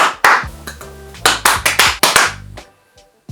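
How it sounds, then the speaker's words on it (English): Sharp hand claps in an irregular rhythm, close and loud, about a dozen distinct claps with brief ringing pauses between, then quiet near the end. "You can use sound, you can use clapping."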